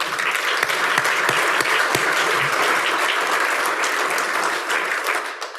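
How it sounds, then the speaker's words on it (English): Audience applause at a health organization's annual celebration, a sustained wash of many hands clapping that holds steady and eases slightly at the close. "That's definitely worth an applause for sure."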